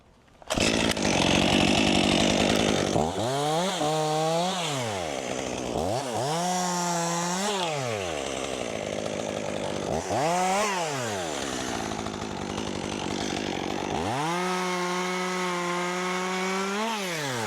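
Chainsaw revving and bogging repeatedly while cutting branches from a 100-year-old dead pine tree, loud and close, with several rising and falling engine surges and no talk.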